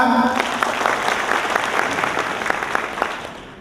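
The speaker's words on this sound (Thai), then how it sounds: "ขอเสียงปรบมือนะครับ" Audience applause at a business seminar in a hotel hall, a dense steady wash of many hands clapping that fades slightly toward the end, with a brief voice at the very start.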